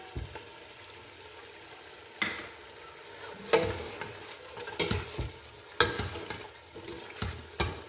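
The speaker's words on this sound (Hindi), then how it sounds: "मसाला अच्छी तरह से भून लिया है हमने" Biryani masala frying in a pan for beef biryani, a low background sizzle broken by several louder scrapes and stirs of a spoon against the pan at irregular intervals, no talking.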